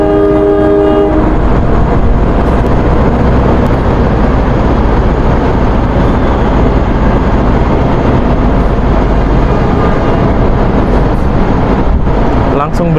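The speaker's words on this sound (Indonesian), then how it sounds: "Ini kereta api Mutiara Timur diberangkatkan dari jalur 2 stasiun Pasuruan." Mutiara Timur passenger train pulling out of Pasuruan station, with a loud, steady rumble and rolling clatter of wheels and carriages close by, a sustained horn-like tone in the first second, continuous throughout.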